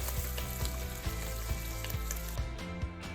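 Bacon frying in a pan until crisp, a dense constant sizzle with small popping spatters, heard up close with no voices over it.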